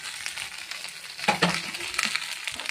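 Dried red chillies and spices tempering in hot oil, a crackling sizzle with sharp spits and a few stirring scrapes, close and moderately loud.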